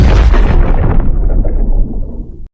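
A heavy, booming blast like an artillery cannon shot, standing in for a punch impact: one loud, close explosion that fills the space and rolls away in a rumbling decay before cutting off sharply.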